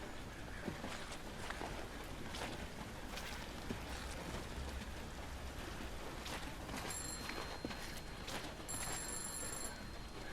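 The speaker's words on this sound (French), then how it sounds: "Le téléphone, hein?" A telephone rings in the horror video game I'm Counting to 6, with two short bursts of ringing from a phone booth rising over a constant hiss of rain.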